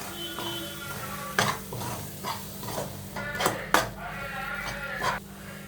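A spoon stirs dry chicken masala spice powders, including kitchen king masala, in a cooking pan, giving a few scattered metallic clinks and scrapes over a low background hum.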